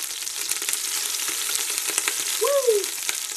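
Butter and coconut oil sizzle steadily in a hot pan, a dense continuous frying hiss with a brief tonal scrape near the end.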